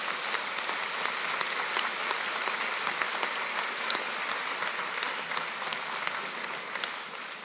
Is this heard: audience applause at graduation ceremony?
yes